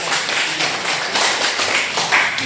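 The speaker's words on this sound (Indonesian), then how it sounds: "Tepuk tangan Pak." Students in a classroom clap as applause, a dense, continuous patter of hands at a steady level throughout, with no voices heard.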